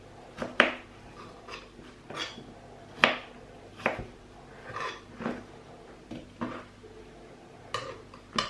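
Apples chopped on a board for a crumble, with a knife striking wood in sharp, irregular knocks spread across the clip, close and clear, with no talking.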